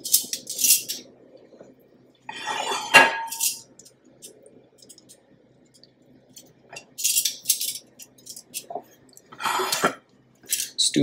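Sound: plating up chicken wings, dishes and cutlery clinking

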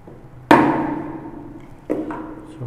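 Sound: chiseling a wooden wedge for a stool

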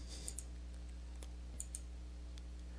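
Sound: computer mouse clicking in Excel 2013

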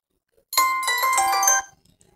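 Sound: Twitter app notification sound preview

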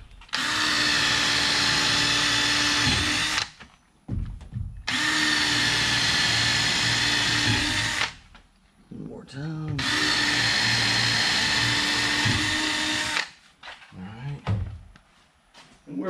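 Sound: power drill driving screws to install rub rail

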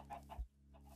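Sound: chickens clucking in a video game

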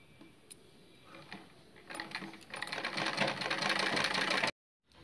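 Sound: sewing machine stitching a blouse

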